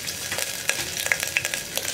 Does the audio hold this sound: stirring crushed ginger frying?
yes